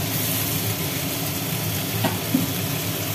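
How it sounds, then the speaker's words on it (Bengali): Cumin and chili pastes sauté with potatoes in a hot pan, giving a steady close sizzle and fry hiss with a couple of faint stirring knocks, with no talk over it. "এইবার এইটা আলুর সাথে বেশ করে কষানো হবে"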